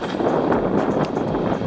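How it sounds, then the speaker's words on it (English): Steady, dense wind roar buffets the microphone throughout on a beach, a broad continuous rush with no voices. "it's freaking windy"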